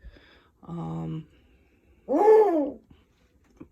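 An owl gives two separate harsh, throaty calls, each under a second long, with a short pause between them and no talking.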